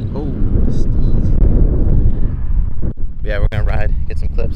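Strong wind buffets the microphone at an outdoor skate park, a heavy low rumbling roar that dips briefly midway, with people's voices breaking in near the end.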